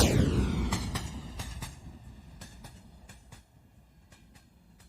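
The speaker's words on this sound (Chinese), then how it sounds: "这里有一个叫做 Super Fast Passing Train， 快速通过的火车这么一个预设值" A Super Fast Passing Train preset effect: a loud rushing roar that sweeps past and fades quickly, followed by a string of sharp rhythmic wheel clacks that thin out and grow quieter as the train recedes.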